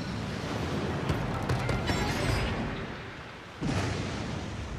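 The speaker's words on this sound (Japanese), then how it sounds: "わあ、でっけえ花火やな。" Large fireworks burst in Paper Mario: The Origami King, a rumbling booming spread followed by a sharper crackling blast near the end, moderately loud in-game effects without speech.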